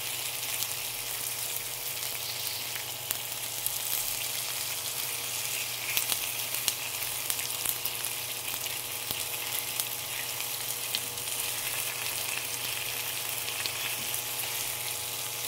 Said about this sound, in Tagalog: Pwede na mag-ihaw sa loob ng bahay. Gamit ang kawali.